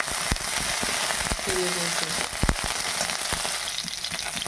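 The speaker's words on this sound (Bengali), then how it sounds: "ভালো করে ফুলকপির সাথে আদাটা আমি ভেজে নিচ্ছি" Cauliflower and ginger, with whole cumin added, fry in hot oil in a pan, giving a dense close crackle and sizzle with sharp pops and clicks, and faint talk underneath.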